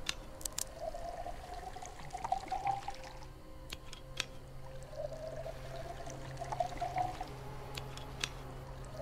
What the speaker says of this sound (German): Von diesen ganzen Wassergeräuschen könnte ich langsam pissen gehen